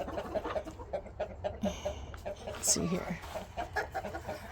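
Chickens cluck in short repeated bursts around a farmyard, moderately close, while a person talks quietly over them and a higher chirp cuts in midway.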